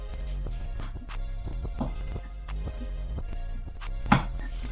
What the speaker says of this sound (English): you wanna cut off these ends right here